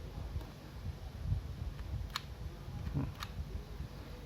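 A few sharp mechanical clicks of a Yashica Electro 35 GL film camera shutter, close and crisp, spaced apart over a faint hiss with no talking.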